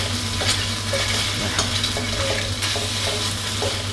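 Isan-style fermented sausages sizzle steadily in a frying pan without oil while a utensil stirs them, with soft scraping clicks at irregular intervals and no talking.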